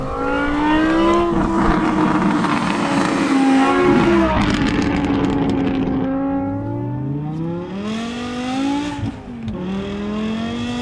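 A V10 engine in a six-speed BMW M6 with headers-back full custom straight-piped exhaust revs hard and climbs repeatedly, loud and aggressive, dipping briefly between pulls, close and continuous.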